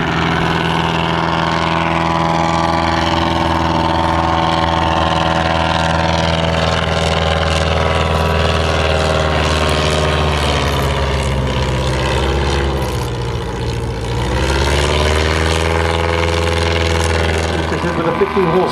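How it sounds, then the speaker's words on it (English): An Avro vintage aircraft engine drones steadily and loudly while the plane lands back into wind, its tone dipping briefly midway before rising again, with a voice talking over it. "I think we're seeing the Avro now being landed back into wind."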